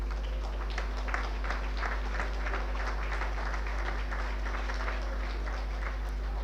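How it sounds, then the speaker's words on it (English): Applause at a 1999 St Joseph's Doora-Barefield celebration dinner, a dense, even clapping from a large indoor crowd that holds steady throughout, with no voices over it. "And a big round of applause, I think, to them."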